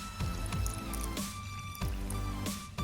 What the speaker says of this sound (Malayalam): ഇനി ഇതിനെ ഡൈല്യൂട്ട് ചെയ്ത് ഒരു പേസ്റ്റ് രൂപത്തിലാക്കാൻ ആവശ്യമായിട്ടുള്ള വെള്ളം ഒഴിച്ച് കൊടുക്കണം.